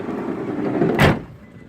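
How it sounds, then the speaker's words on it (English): A van's sliding side door rolls shut, a low rumbling glide ending in one loud, brief thud up close, with no talk. "Sliding doors, obviously."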